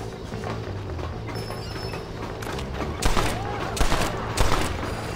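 Heavy gun firing in Red Dead Redemption, several loud booming shots landing in the second half over a steady rumbling, mechanical background, close and punchy.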